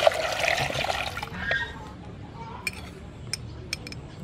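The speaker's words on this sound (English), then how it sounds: "Add some water." Water poured into a pot of sea snails being prepared for cooking: a close, splashing pour for about a second, then quiet with a few light clinks of kitchenware.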